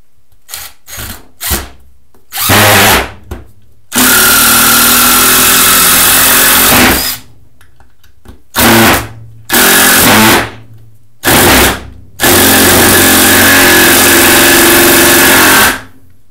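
A Ridgid X4 impact driver sinks 3.5-inch deck screws into a Douglas fir 4x4, loud and close, with short hammering bursts and then long sustained runs of rattling impacts separated by silent pauses, with no voice.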